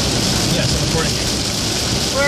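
Rain and wet road noise from inside a moving car, a loud steady wash of hiss and tire rumble, with voices talking over it.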